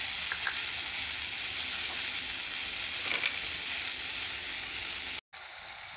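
Dried chillies and onion frying in hot oil for okra, a steady loud sizzle that runs on and stops briefly near the end.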